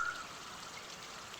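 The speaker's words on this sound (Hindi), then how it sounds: "इसके अंदर सारा चश्मे का पानी ऊपर से गिरता रहता है नीचे" Spring water in the mountains at Naran falls from a height down into a deep spot, making a steady, fairly faint trickle and splash that runs unbroken throughout, with no voices.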